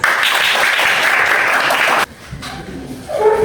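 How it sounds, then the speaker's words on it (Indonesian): A class audience claps loudly after a student group's computational-thinking presentation, a dense burst of applause for about two seconds that stops abruptly, leaving faint room noise and murmurs. "Kita berikan aplaus dulu"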